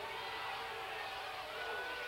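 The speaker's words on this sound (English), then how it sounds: "Well, the crowd let them know what they think." High school football crowd at a 1995 Robinson vs Benton game, reacting to a play: a broad, steady roar of many voices from the stands, distant and continuous without single shouts standing out.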